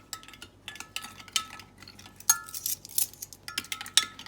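Yeast and brown sugar stirred together in a bowl for homemade Guyanese bread, a spoon clinking and scraping against the sides in quick, uneven strokes, close up and fairly quiet.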